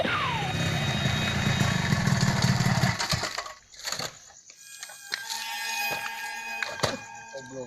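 A motorcycle engine runs roughly nearby, loud and rattling for a few seconds, then drops away and sputters unevenly as the stalled bike falters, with scattered clanks and knocks.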